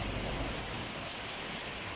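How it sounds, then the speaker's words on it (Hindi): Heavy rain pours steadily outdoors, a dense, continuous hiss of drops striking surfaces with no break, loud and close, with no voices over it. "जी ये देखें कितनी तेज़ बारिश हो रही है"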